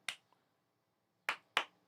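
Three sharp, faint hand claps sound in a quiet room, one alone and then a closely spaced pair after a pause.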